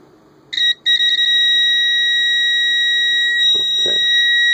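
A continuity tester sounds a steady electronic beep, briefly stuttering before holding one continuous tone, loud and close, during installation of an Inrad 92 filter in a Kenwood TS-2000 transceiver; a few faint handling noises occur underneath.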